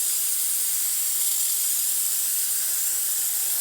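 A loud, steady hiss of steam venting continuously and close by from the boiler of a Bezzera Unica espresso machine, with no pauses or other sounds.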